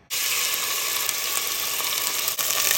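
Onions hit hot cooking oil or extra virgin olive oil in a pan, bursting into a loud, steady sizzle that starts abruptly and holds constant, with a brief dip near the end.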